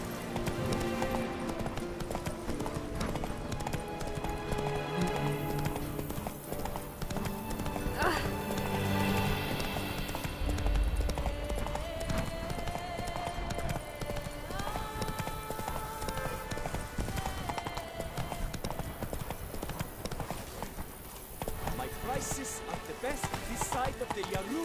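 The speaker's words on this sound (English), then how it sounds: "Whoa there, Roach." Horse hooves clip-clopping and galloping in The Witcher 3 game, a steady rhythmic pounding with occasional whinnies, layered over game music and ambient sounds throughout.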